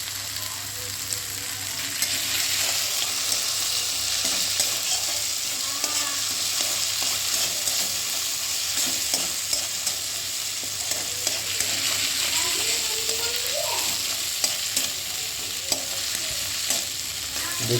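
Ginger fries in a pan with a continuous crackling sizzle while a utensil stirs and scrapes at intervals, steady and close throughout, with no talking.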